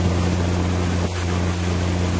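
A motorboat water taxi travels along the Kuala Kapuas river in Kalimantan, its engine giving a steady, close, droning hum with a constant rumble of water and no voices.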